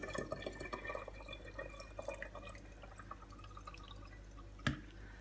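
Kefir water drips through a filter cloth in a quiet kitchen, with faint, irregular small drips and light liquid trickling. One sharper, louder drip stands out near the end.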